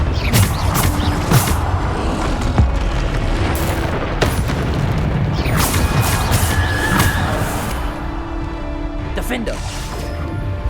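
Bombarda blasting spell in Hogwarts Legacy, a dense run of loud booming explosions and crashing impacts over several seconds, continuous and heavy with sharp bursts scattered through a thick roar of battle noise.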